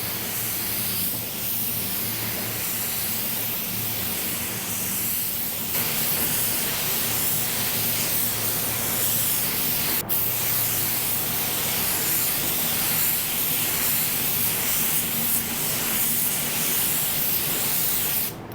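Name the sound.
spray gun spraying base coat paint on car bumper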